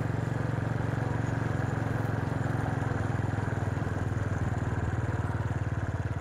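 A motorcycle rides along a village road on a short ride with brothers, its engine running steady and loud throughout with a constant low throbbing drone and no talk.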